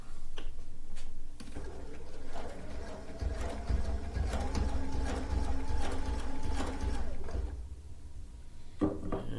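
A sewing machine stitches off rag quilt fabric onto a starter and ender cloth, running as a steady, close mechanical whir with fine ticking for several seconds before stopping.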